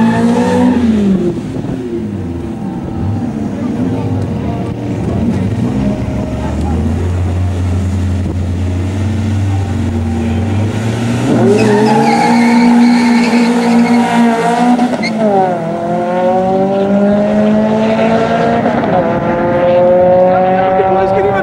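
Two Renault Clio race cars, each with a naturally aspirated 2-litre engine, rev loudly at the start with rising engine pitch through gear changes, fairly close and continuous, with a voice talking over it.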